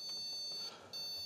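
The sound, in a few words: IBM PC 5150 beeping at power-on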